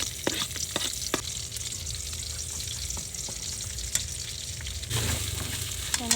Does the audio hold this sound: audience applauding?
no